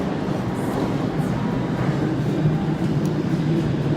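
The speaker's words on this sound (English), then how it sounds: "Join me now on this westbound District Line train to Putney Bridge." A westbound London Underground District Line train toward Putney Bridge rumbles steadily from inside the carriage, a continuous loud low roar with faint squeals and rattles throughout.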